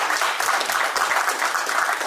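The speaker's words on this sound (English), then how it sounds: "So please, clap for Marvin," A gala audience applauds for an honoree: dense, loud clapping from many hands, steady and sustained with no voices on top.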